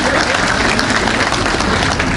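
A crowd gives steady, dense applause during an Islamic sermon in Cempaka Putih, the clapping loud and even throughout the short stretch with no pauses.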